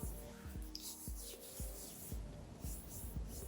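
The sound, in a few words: rubbing silicone primer onto face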